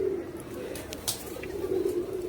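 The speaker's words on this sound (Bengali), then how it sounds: "ময়ূরী কবুতর, এই কবুতরের নাম হচ্ছে ময়ূরী কবুতর।" Fantail pigeons cooing at a zoo in Dhaka, Bangladesh: a steady low murmur of coos runs throughout the short stretch, moderately near, with faint background chatter.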